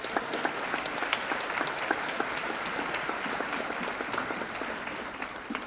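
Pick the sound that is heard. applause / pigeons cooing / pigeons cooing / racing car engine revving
applause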